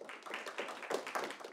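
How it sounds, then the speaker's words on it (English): Lecture audience clapping for student volunteers in a university classroom, a short burst of scattered, moderately loud claps from a group. "So can we have a round of applause for Young?"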